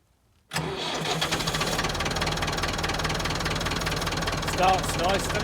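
A Volvo tractor engine cranks and catches abruptly after a brief silence, then settles into a steady, loud, close diesel idle with a knocking rhythm, after brake master cylinder and steering hydraulics work; a voice speaks briefly over the running engine.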